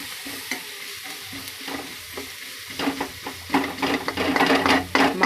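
Ginger garlic paste fries in a pan for egg curry, a soft sizzle with scattered stirring scrapes that grows busier and louder in the second half as the spoon works more vigorously.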